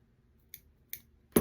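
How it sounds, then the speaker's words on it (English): Scissors trimming excess zipper tape on a slim wallet: two sharp, quiet snips spaced apart, followed by a louder, fuller cut at the end, close in an otherwise quiet room. "Now I'm going to trim off this excess"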